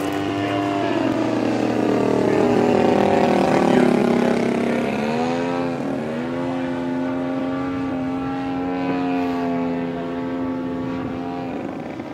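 An E-Flite P-51B Mustang 32e electric RC plane whines overhead at full speed on its maiden flight, its propeller pitch rising and sweeping as it passes and then holding a steady high drone.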